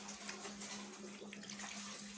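Steady running water from a tap splashing over a dyed dress being rinsed by hand, continuous and fairly close with a low hum beneath.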